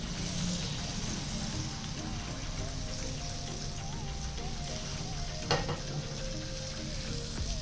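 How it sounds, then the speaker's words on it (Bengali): Chicken pieces frying in butter in a pan on a gas stove, a steady close sizzle and crackle throughout with a brief sharper spatter near the end. "এবার আমরা চিকেন পিসেসগুলোকে একটু ফ্রাই করে নেব"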